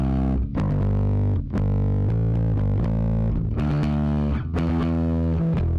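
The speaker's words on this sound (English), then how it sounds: "That distortion is just from the compressor here." Bass track playing through a compressor plugin that adds audible distortion, loud and continuous with punchy, gritty notes and brief dips between phrases.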